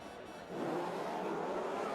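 Race car engines idle and drone on the starting grid of a racing video game at the Azerbaijan circuit. A steady, fairly loud engine roar swells in after a quiet moment and holds evenly.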